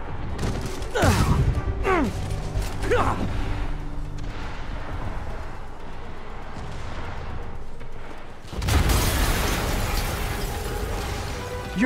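Booming blasts from an explosion in Marvel's Spider-Man Remastered go off close and loud, with sharp cracks, falling whooshes and rumbling debris, followed by another heavy burst near the end.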